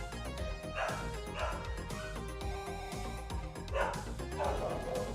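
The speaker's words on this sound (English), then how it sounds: "Just in case you hadn't heard the dog bark yet today, there's the dog" Dog barking and yipping repeatedly in bursts, with whimpering between, heard beneath a voice and game-like background sound, moderately close.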